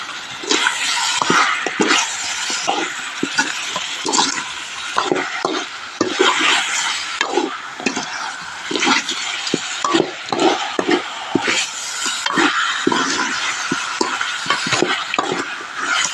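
Food cooking in a pot is stirred with a spoon, giving rapid repeated scraping and knocking strokes over a continuous sizzle, close and steady, no speech.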